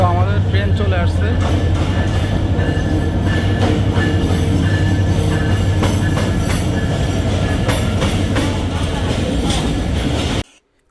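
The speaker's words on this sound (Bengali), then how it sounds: "তো আমাদের ট্রেন চলে আসছে।" A passenger train pulls into Feni railway station in Bangladesh, its loud, steady rumble of wagons and wheels filling the platform with a constant low drone and scattered squeals until it suddenly cuts off.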